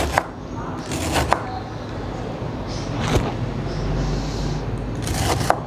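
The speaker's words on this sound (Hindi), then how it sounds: "इस तरह से बारीक कटिंग करनी है आपने साग की।" Mustard greens (saag) are finely chopped with a knife, a dense stream of rapid close chopping taps on a board with a few sharper knocks.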